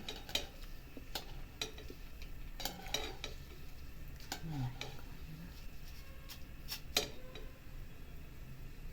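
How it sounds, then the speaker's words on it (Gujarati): Coconut pieces fry in hot oil for a poha and puffed-rice chevda, a soft steady sizzle broken by sharp clinks and scrapes of a spoon stirring in the pan. "ટોપરાના ટુકડા તે પણ થોડા તળી લઈએ."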